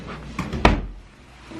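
Drawers beneath a pull-out sleeper in a resort hotel room being opened, a soft slide followed by one solid wooden thunk close by, then quiet room tone.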